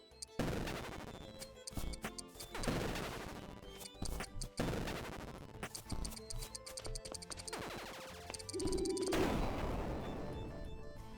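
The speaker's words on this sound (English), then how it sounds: "That was quite an explosion." Rapid bursts of gunfire-like blasts and crashing booms pile up over about eleven seconds, loud and dense with brief lulls between volleys.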